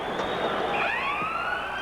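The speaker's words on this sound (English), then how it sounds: "As the siren goes here at Chicago Stadium" The arena siren at Chicago Stadium wails to end a period of a 1989 Red Wings–Blackhawks playoff hockey game, a loud rising tone over crowd noise.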